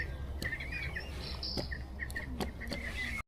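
Scattered bird chirps and tweets over a steady outdoor background hum at Dunham Massey deer park, several short calls at varying distances.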